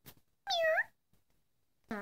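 A house cat meows in a long, clear, rising-then-falling call nearby, with a shorter meow starting at the end and a brief faint sound just before, and no talking.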